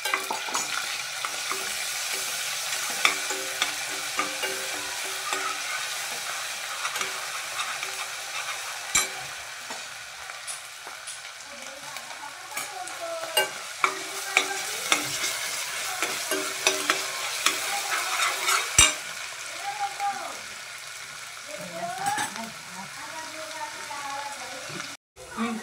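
Konkani ground masala paste frying in a pan with continuous sizzling and repeated scraping stir strokes, close by, with faint voices in the background and a sharp clink near the end.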